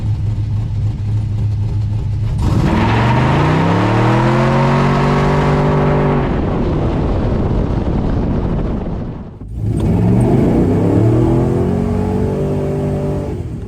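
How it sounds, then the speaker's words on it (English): A 1970 Pontiac GTO with an LS engine swap and new cam, heads and intake launches hard from a dead stop, the engine roaring up through rising revs, dipping briefly at a shift, then climbing loud again, no talking. "see what it'll do from a dead stop, not power braking it, just flooring it"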